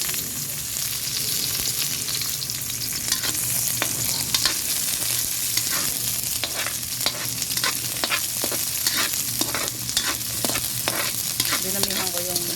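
Sliced onions sizzle in a hot pan under constant, loud frying hiss, with a spoon scraping and stirring in an irregular rhythm.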